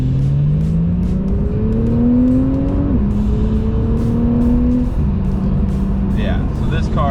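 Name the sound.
Porsche sports car accelerating on the freeway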